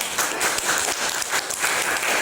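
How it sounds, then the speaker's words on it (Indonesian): A short burst of applause, a crowd clapping steadily and fairly close. "Tepuk tangan."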